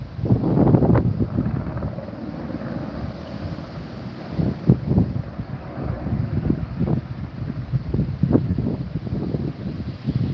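Strong wind gusting near a fast-growing wildfire, buffeting the microphone in rough, uneven bursts of low rumble that rise and fall over a steady whoosh.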